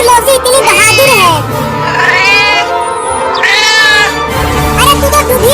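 Cartoon cat meowing, a couple of drawn-out, wavering caterwauling cries over loud background music and a voice, with a short pause between the cries.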